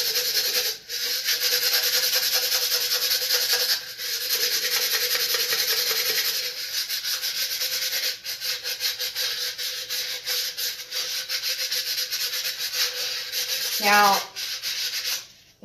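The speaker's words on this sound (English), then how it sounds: "you're going to take a 120 grit sandpaper, and this will give it a nice smooth finish." A cut glass wine bottle being sanded with 120 grit sandpaper, a steady, close, loud scratchy rubbing that runs continuously with slight strokes and pauses, with a brief squeak near the end.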